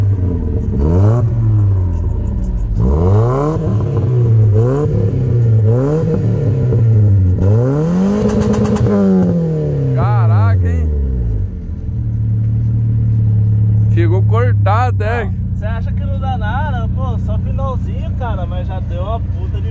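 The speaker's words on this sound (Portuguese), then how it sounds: "Olha o escapizão nervoso, hein." A Chevrolet Astra with a loud modified exhaust revs again and again, its engine rising and falling in a strong rhythmic series close by. It then settles into a rumbling idle while people talk over it.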